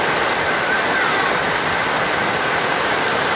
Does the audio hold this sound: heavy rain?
yes